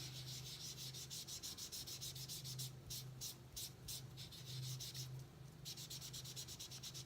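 Copper paint being rubbed by hand into textured card stock, a faint, close, rhythmic scratchy rubbing with quick repeated strokes, steady throughout with no talking.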